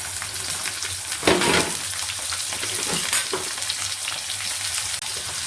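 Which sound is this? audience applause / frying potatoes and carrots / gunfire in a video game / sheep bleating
frying potatoes and carrots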